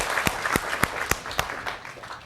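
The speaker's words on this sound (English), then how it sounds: "Let's give a round of applause for David." Sparse, slow clapping in a lecture room as a class applauds a student: a handful of distinct, evenly spaced claps, fairly near and moderately loud, with no talking over them.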